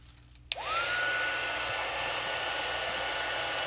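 A heat gun blowing on glitter embossing powder for a card, switched on with a click and then a steady, close, continuous whooshing roar.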